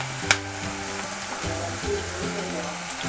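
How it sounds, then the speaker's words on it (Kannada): Cooked vangibath palya, a spiced brinjal stir-fry, going into fried onions in a pan for rava vangibath, giving a steady close sizzle with a sharp clatter near the start and soft stirring scrapes. "ಈರುಳ್ಳಿ ಫ್ರೈ ಆದಮೇಲೆ ಮಾಡಿಟ್ಕೊಂಡಿರೋ ವಾಂಗಿಬಾತ್ ಪಲ್ಯನ ಇದಕ್ಕೆ ಹಾಕೋಬೇಕು"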